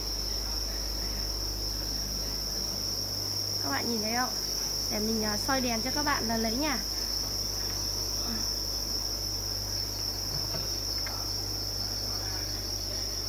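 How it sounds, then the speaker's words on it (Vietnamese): Crickets raised on a cricket farm chirp in a dense, unbroken high trill that fills the enclosure steadily throughout, while someone speaks briefly over it. "Thì sau đó thì vào những con dế mà lớn hơn như là ở bên trong này."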